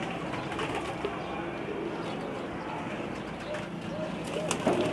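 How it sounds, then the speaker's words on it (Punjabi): Pigeons kept in a Lahore loft, some with red eyes, coo softly and repeatedly at low volume against a muffled background. "ਸਾਡੇ ਕੋਲ ਸਾਰੇ ਡੈਡੀ ਕਬੂਤਰ ਨੇ"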